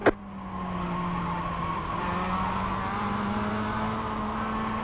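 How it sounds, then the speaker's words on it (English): In a racing video game, a race car engine holds a steady high drone near the rev limit and sounds as if it is over-revving. A sharp click opens the sound, and it stays loud and sustained throughout with no voices. "I am conscious I'm over-revving."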